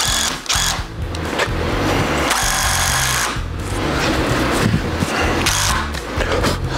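A power drill drives a screw into raised-bed lumber without a pilot hole, loud close motor bursts that rise and stop repeatedly as the screw is worked in and out.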